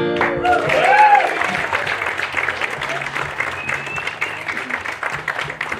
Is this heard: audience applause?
yes